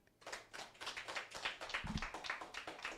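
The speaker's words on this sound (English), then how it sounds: "can I please ask that we give her a round of applause again?" A church congregation at a Sunday service gives a round of applause, soft rhythmic clapping from several hands, faint and slightly distant, with no talk over it.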